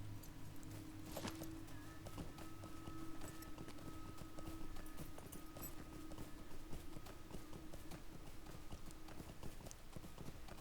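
A riding horse's hooves clip-clop at a steady trot in the game Lord of the Rings Online, as a continuous quiet rhythmic patter with no talk over it.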